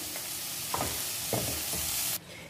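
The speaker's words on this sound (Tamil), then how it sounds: "ஆனியன் ஃப்ரை ஆகிறதுக்கு நான் சால்ட் சேர்த்துக்கிறேன்" Onion, garlic and ginger sizzling in a pan, a steady close hiss with a few soft scraping stirs before the sound drops away at the end.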